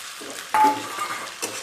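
Sabudana tapioca pearls go into hot oil with chillies and are stirred in a pan, giving a close sizzle, a sudden scraping toss and light clinks of the spoon, with no voices.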